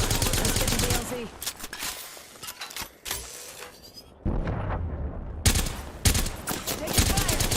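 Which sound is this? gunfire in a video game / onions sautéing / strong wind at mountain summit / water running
gunfire in a video game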